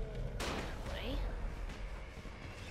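Firecrackers burst in the zombie game Dying Light, a sharp loud crack followed by rumbling booms and scattered pops over dense game noise, with someone speaking briefly.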